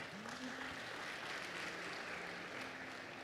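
A seated audience at a talk claps in a soft, steady patter that sounds distant and faint throughout, with no speech over it.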